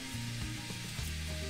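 Garlic sizzles steadily in hot oil in an Afghan kazan, a close, continuous crackle with no talk over it.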